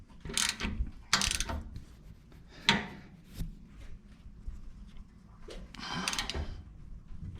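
Ratcheting clicks from a torque wrench tightening a fitting during a Hydrovac brake booster replacement on a 1966 N600 truck, several short bursts of close mechanical clatter with pauses between them.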